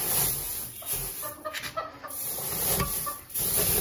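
A white Aseel hen sitting on eggs, clucking in low, soft bursts amid steady background hiss and faint rustling, close by.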